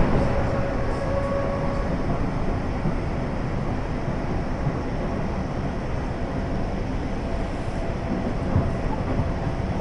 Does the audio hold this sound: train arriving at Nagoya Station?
yes